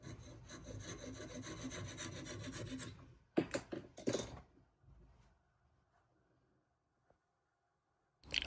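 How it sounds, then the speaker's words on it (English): Hand sanding over wood filler on a wooden farmhouse chair frame, with close scratchy rubbing strokes for about three seconds, then a few louder bursts of scraping before near silence. "Sand down the wood filler and the frame of the chair will be complete."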